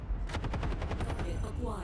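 Rapid repeated weapon bursts from a mech firing lasers in MechWarrior 5, a fast stuttering volley of near, loud pulses packed closely together, with faint voice mixed underneath.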